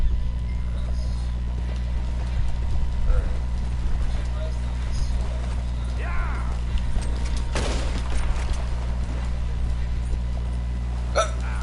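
A horse gallops in the video game Red Dead Redemption II with a rapid, rhythmic clip-clop of hooves. It runs over a low engine-like hum, scattered game effects and a sharp burst near the middle, with a voice talking at times.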